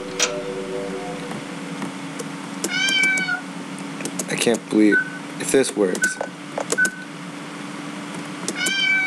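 A cartoon cat in the video game Grounded meows repeatedly in short, clear cries among game sound effects, while someone talks over the gameplay.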